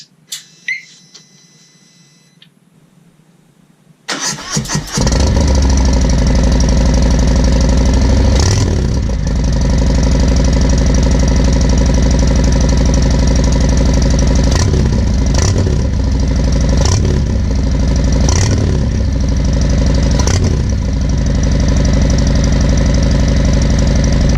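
A Harley-Davidson Fat Bob engine with its exhaust baffles removed fires up after a short quiet stretch, then idles loud and raw with several sharp throttle blips, an unbaffled roar close by.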